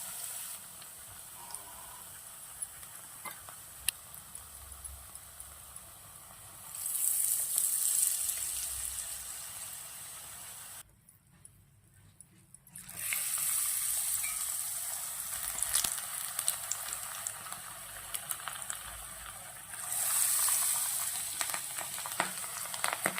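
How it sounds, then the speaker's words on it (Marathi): Betel leaf pakodas deep-frying in hot oil, a steady crackling sizzle running throughout with a brief near-silent gap midway and a few louder surges, close by and alone. "ह्याला काय जास्त भाजायला नको जास्त तळायला नको ती लगेच कुरकुरीत होतात"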